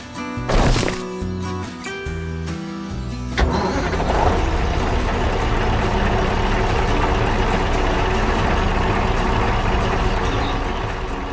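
Engine of a blue farm tractor: a sharp starting burst, then a loud, steady, rough mid-pitched running drone held to the end.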